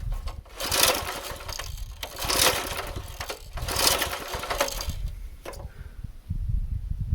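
Repeated pull-cord starts on a 1990 Task Force 5hp rototiller engine during a compression test, three long raspy bursts of cranking at steady spacing, with a short clack near the end and no speech.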